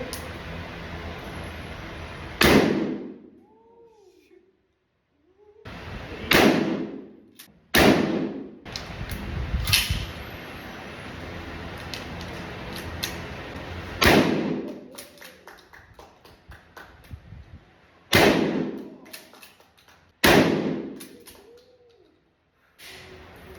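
Shotgun blasts ring out at an outdoor shooting range in Thailand: roughly eight loud, sharp booms spaced a few seconds apart, each with a short ringing tail, and quieter handling sounds in between.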